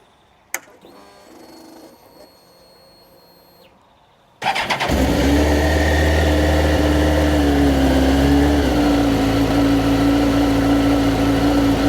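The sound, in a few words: motorcycle engine cold start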